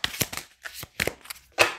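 Quick papery swishes and snaps of tarot cards being handled and slid from a deck, several short bursts in close succession.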